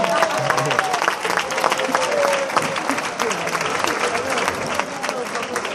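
Audience applause fills a comedy show by a comedian in Vilafranca del Penedès, a steady dense clapping from the crowd with a voice speaking over it throughout.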